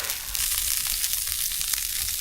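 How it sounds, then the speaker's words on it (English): Cookie dough balls fry in a pan at a cold winter campsite, giving a steady close sizzle and crackle with no talk. "I figured maybe I'll try frying them up"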